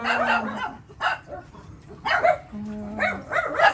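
A dog barks in a string of sharp, close yips and bow-wows, about five bursts spaced irregularly, with a higher whimpering tone between some barks and a person talking at times in the background.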